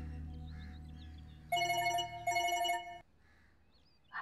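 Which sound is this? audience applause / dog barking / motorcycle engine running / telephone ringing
telephone ringing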